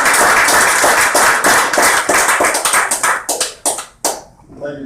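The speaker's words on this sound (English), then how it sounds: "So please, everybody, please give a round of applause to executive consultant Alan Johnston." A business-event audience claps for an executive consultant being introduced, a dense burst of hand claps that gradually thins into scattered individual claps and fades out over several seconds.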